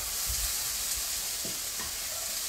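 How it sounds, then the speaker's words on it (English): Vegan burger patties fry in a pan with a steady crackling sizzle, a few soft scraping stirs and taps breaking through the constant hiss. "frying it, making sure that it gets nice and seared as well."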